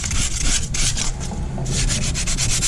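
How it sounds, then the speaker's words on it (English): Sandpaper rubs by hand across a Chrysler 200 wheel hub in steady, rapid back-and-forth strokes, loud and close with a gritty, continuous scratching texture and a brief pause midway. "I prefer hand sanding."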